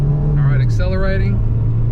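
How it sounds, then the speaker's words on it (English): An Acura RSX Type-S engine pulls up to cruising speed with a steady droning rumble that dips slightly as it settles, close and loud, with a person speaking over it. "to my cruising speed, 4th gear, and holding, clutch in, and brake."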